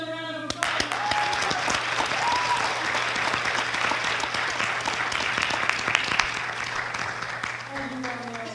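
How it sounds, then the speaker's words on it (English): A crowd at a Coatesville Area School District board meeting applauds a performer, sustained clapping with voices and cheers mixed in at the start and end. "Can we give him another round of applause?"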